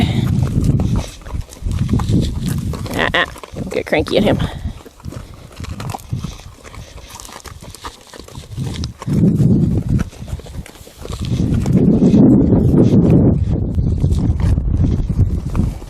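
A saddle horse walks on the ground in a horsemanship session, its hooves clip-clopping in uneven bursts, close by, with wind noise and someone speaking briefly over the steps.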